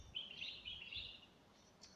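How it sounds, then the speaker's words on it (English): Birds chirp and trill outdoors on a cold day, a steady chorus of small tweeting calls fairly close by, with no talking over them. "I hope you can hear the birds."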